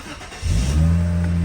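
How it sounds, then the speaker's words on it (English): An Acura Honda car engine starts up after a fuel pump replacement, with a brief crank that catches into a loud, steady idle close by, running on its own with no talking. "now I'm gonna go ahead and start the engine."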